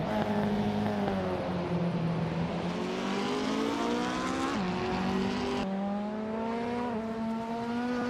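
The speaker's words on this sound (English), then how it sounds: "Shikamaru is driving a 1993 Renault 19." A 1993 Renault 19 engine drones steadily in a video game race, pitch climbing gradually under load with brief dips at gear changes, loud and close throughout.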